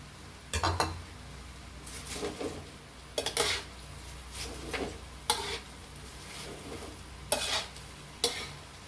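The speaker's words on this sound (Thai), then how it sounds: "ก็ผัดไปเรื่อยๆก่อนนะคะ" Cabbage and bamboo shoots stir-fried dry in a pan with no water. Loud spatula strokes scrape and clank against the metal at irregular intervals of about a second over a low sizzle, close up with no voices.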